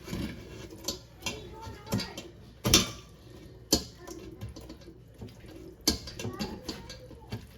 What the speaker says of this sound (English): it's probably a good time to run it through a sieve or a food mill